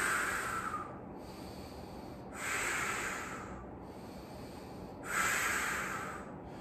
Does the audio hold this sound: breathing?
yes